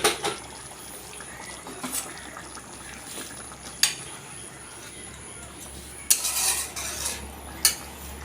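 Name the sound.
hot water poured into rohu fish curry, stirred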